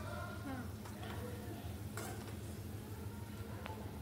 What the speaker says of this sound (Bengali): আলুগুলোকে একইভাবে লাল লাল করে ভেজে নেব